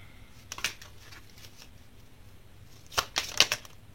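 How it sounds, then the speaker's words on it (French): A tarot card is drawn from the deck with a few quiet, crisp card snaps and slides, one brief flick early and a quick cluster of sharper rustles later, set against near silence. "Je vais sortir une carte."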